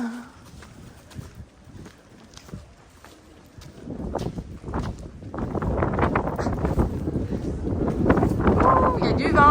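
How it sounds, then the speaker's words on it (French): Low, buffeting rumble of wind hitting a microphone in Asilah, Morocco, growing stronger and more constant in the second half, with voices talking faintly under it. "il y a du vent."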